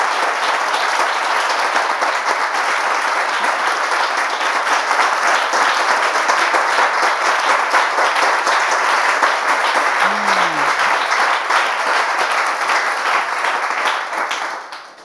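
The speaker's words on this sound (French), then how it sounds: "On l'applaudit jusqu'à ce qu'il s'installe." Continuous loud applause from a TV studio audience fills the set as a guest takes a seat, one brief low voice surfacing near the end before the clapping fades out.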